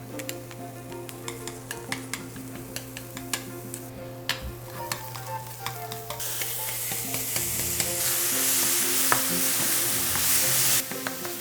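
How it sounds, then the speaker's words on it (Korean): Mushrooms stir-fried in a preheated pan give a steady sizzle that swells louder in the second half, with occasional scrapes and clinks of a utensil against the pan. "이렇게 지금 팬이 예열된 상태에서 먼저 버섯을 먼저 볶을 거예요."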